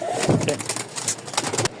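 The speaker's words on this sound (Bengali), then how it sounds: "এই হচ্ছে 2 জোড়া কবুতর, এক জোড়া একেবারে কালো কুচকুচা, আর এক জোড়া একেবারে সাদা ধবধবা" Two pairs of pigeons, one jet black and one pure white, coo softly at close range in short bursts, with some handling and shuffling noise around them.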